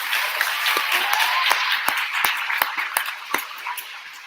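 Applause from an audience at a school assembly award ceremony, a steady wash of clapping hands with sharper individual claps standing out as it tapers off.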